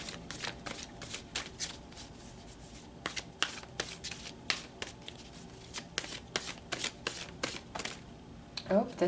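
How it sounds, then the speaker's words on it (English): A tarot deck is shuffled by hand in a series of quick riffling bursts and crisp card flicks, close and fairly soft, with short pauses between shuffles. "Let's pull some more cards."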